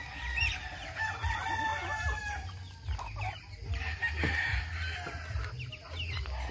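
A rooster crows and chickens cluck at a farm among flowers and ducks, the calls rising repeatedly over steady low background noise, fairly close and moderately loud.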